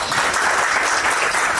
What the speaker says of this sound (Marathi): सगळ्या जोरदार टाळ्या होत्या